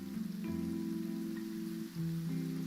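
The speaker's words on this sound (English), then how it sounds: "It's raining." Steady rain falls in the video game Genshin Impact, a continuous patter running beneath sustained tonal music, with a brief dip near the end before the hiss resumes.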